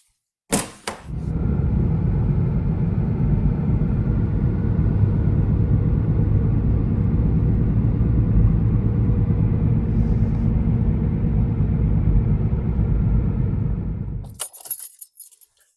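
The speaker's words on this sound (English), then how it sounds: "Let's take it out on the road, take it for a spin, and see how it looks." A car drives along a road after a steering wheel alignment, a steady engine and tyre rumble heard from inside, continuous and fairly loud, with brief clunks at the start and end.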